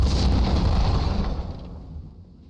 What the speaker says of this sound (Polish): Zobaczmy, ktoś przeżył wybuchy.